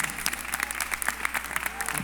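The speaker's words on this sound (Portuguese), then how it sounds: "Aplauda o Senhor nessa noite." A church congregation claps during an evening service, a lively run of sharp handclaps in a quick, roughly rhythmic pattern at moderate loudness, with voices faintly mixed in.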